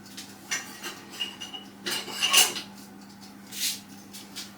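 Kitchen utensils clatter and scrape as a spare balloon whisk is fetched from among them: a few short metallic rubs and knocks, close and moderately loud, over a steady low hum, with no talking.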